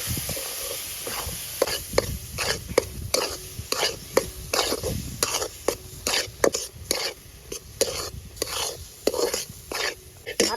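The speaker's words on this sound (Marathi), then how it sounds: "आता रवा आता चांगला भाजून घेऊ" Semolina roasting in a pan for mango sheera, stirred with repeated scraping strokes in a steady rhythm over a faint sizzle, close and moderately loud with no talking.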